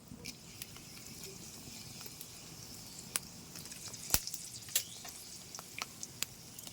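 Bay leaf, cinnamon, cloves, cardamom and dried red chillies frying in hot oil for a Bengali mutton curry, a soft steady sizzle broken by sharp pops and crackles, quiet and close.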